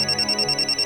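A telephone bell rings in a steady pulsing pattern, a bright repeated electronic trill sounding alone at moderate loudness with no talk over it.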